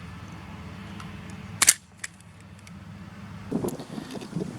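A T238 V2 Nerf airsoft grenade loaded with Rival balls bursts outdoors in one sharp, loud crack with a short spray of balls afterward, followed by a quieter rustle and a few scattered impacts.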